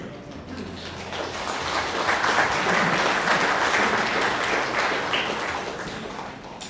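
A crowd applauding at a memorial service, the clapping swelling to a dense peak in the middle then easing off, with a faint dove-like coo and some murmuring underneath.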